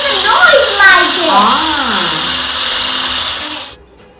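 Loud electric mixer whirring as it beats butter and sugar for Christmas sugar cookies, a harsh drill-like buzz with shifting pitch, a voice talking over it, stopping abruptly near the end.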